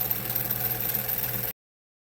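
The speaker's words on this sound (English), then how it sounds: "I'm going to wind the bobbin" A 1950s German Pfaff 130 sewing machine runs steadily while winding a bobbin, producing a continuous close mechanical whir and hum that cuts off abruptly after about a second and a half.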